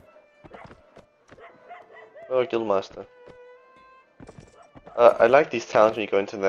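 Dogs bark amid a medieval town's ambience in Mount & Blade: Warband, short sharp yelps and clip-clop scattered through the background while someone talks over them, his voice dominating the louder middle and end.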